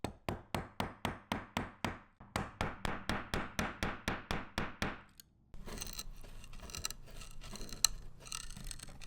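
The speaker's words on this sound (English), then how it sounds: "with a hammer, and what that does is it sends this corner punch into the wood" Steel corner punch driven into wood with a hammer while fitting soft-close hinges to upper cabinet faces, a steady run of about twenty sharp, evenly spaced strikes at close range, then a rougher continuous scraping noise after the blows stop.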